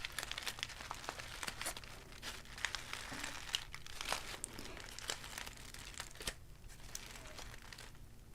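Paper crinkling and crumpling up close during an ASMR unboxing of a well-packaged box, a steady run of soft rustles and sharper crackles with no voice.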